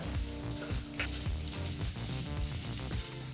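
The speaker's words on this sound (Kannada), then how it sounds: "ನಾಲ್ಕು ಬೆಳ್ಳುಳ್ಳಿ ಎಸಲನ್ನು ಹಾಕಿ ಸರಿಸುಮಾರು ನಾಲ್ಕರಿಂದ ಐದು ನಿಮಿಷಗಳ ಕಾಲ ಮೀಡಿಯಂ ಫ್ಲೇಮ್ನಲ್ಲೇ ಈರುಳ್ಳಿನ ಫ್ರೈ ಮಾಡ್ಕೋಬೇಕಾಗತ್ತೆ" Onion and four garlic cloves fry on a medium flame in a steady, close sizzle with continuous crackling and faint stirring taps throughout.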